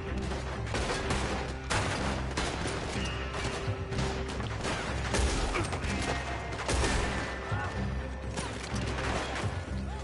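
Dense gunfire from a Red Dead Redemption 2 shootout, with overlapping shots and crashes filling the whole stretch at steady high intensity, close and continuous, with no voices standing out.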